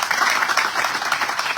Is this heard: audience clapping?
yes